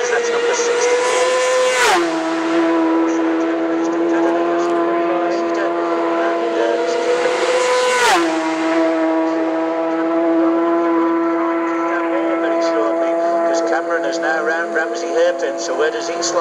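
A BMW racing motorcycle at the Isle of Man TT roars past at high revs, its engine note shifting sharply twice as it passes and gears change, loud and steady under a commentator's voice.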